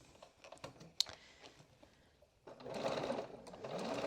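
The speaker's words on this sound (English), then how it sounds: "And we wanna make sure that we backstitch again." A sewing machine backstitching a seam on a vest, first soft clicks and taps, then a steady close-up mechanical whir running to the end.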